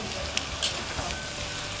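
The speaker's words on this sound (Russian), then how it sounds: "Помидорки. Перемешиваем" Tomatoes being stirred as they fry in a pan give off a steady, fairly quiet sizzle, with a few brief scrapes or clinks of the utensil breaking through.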